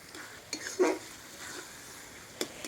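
Tomatoes stirred in a frying pan, a soft low sizzle with a few light scraping clinks of a spatula, quiet and close.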